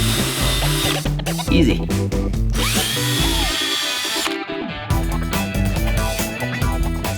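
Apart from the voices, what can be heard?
power drill with step drill bit widening a hole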